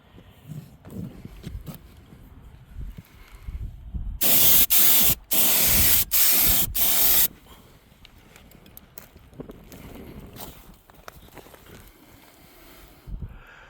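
Spray gun painting a Humvee HMMWV rear AC evaporator box: about three seconds of loud, hissing spray in several bursts with brief breaks, set against quieter shop noise and handling sounds before and after.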